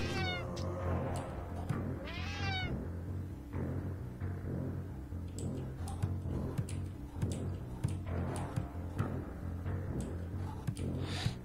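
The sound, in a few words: cat meowing in video game Friday the 13th Killer Puzzle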